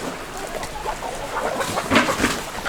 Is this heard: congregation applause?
no